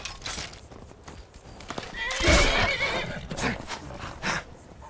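A horse neighs loudly in a long, shaky whinny in the video game Skyrim, with hoof clatter and rustling around it.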